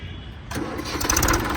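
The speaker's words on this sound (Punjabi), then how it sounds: "ਟਰੈਕਟਰ ਦੀ ਆਵਾਜ਼ ਉਹ ਚੈੱਕ ਕਰ ਲਿਓ" A Massey tractor engine cranks and catches about halfway through, then settles into a steady, close, rumbling run.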